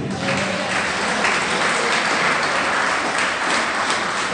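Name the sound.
congregation applauding in church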